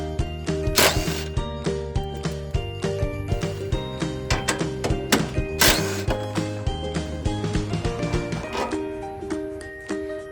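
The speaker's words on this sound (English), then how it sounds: "we're going to be first taking off these two bolts right here, which hold this little bar in" A ratchet wrench loosens two half-inch bolts holding a small bar over the battery of a 2014 Chevy Express, with a long run of rapid, close metallic clicks and a few sharper clanks, no talk.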